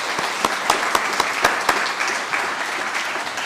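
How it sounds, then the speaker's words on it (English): A small audience applauds two artists, a dense wash of clapping with a few sharp, prominent claps nearby, continuing steadily for about three seconds before easing off. "Let's give a round of applause to our two artists in here."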